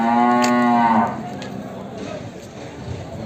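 A heavy Jafarabadi buffalo at a cattle market lets out one loud, close, drawn-out moo lasting about a second. Faint market background noise and voices follow.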